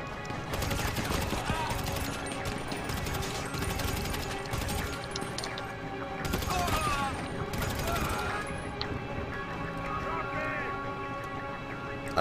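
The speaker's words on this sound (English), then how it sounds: "Okay, well I'm being shot." Gunfire in the video game GTA V Online free mode, repeated bursts of shots and crashing impacts in a dense, busy mix, with players talking over the top.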